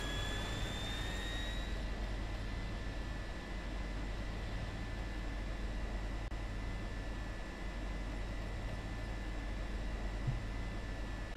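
Spaceship takeoff in the video game Lego Worlds, a steady jet-like roar with a rising whine at the start, holding at a constant moderate level throughout with no talk.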